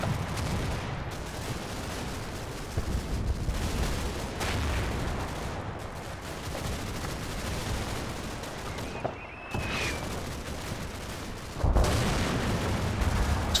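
Artillery fire in Combat Mission: Battle for Normandy rumbles continuously with repeated booms and crashing impacts, and a heavy blast lands near the end.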